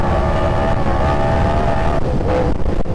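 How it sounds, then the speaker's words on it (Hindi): Yamaha R1 superbike engine on the road in Islamabad, a loud, close, continuous roar with a strong droning tone and no speech over it. "इस तरह हम थ्रॉटल देते हैं"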